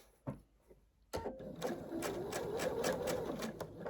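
A sewing machine stitches batik quilt pieces, starting after a brief quiet pause with a couple of clicks, then running steadily with a fast mechanical whir and rhythmic needle chatter.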